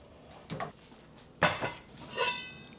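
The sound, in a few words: pot of taro soup being removed from the heat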